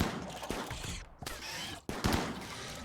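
Pump shotgun blasts in the colony game RimWorld, several sharp reports spaced irregularly over a few seconds, moderately loud with a dense noisy backdrop.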